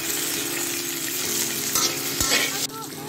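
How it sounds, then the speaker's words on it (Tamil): Raw papaya pieces frying and being stirred in sesame oil in a pan, with steady close sizzling, a few spoon scrapes and clatters near the end. "இது நல்லா ஃப்ரை பண்ணிக்கிங்க"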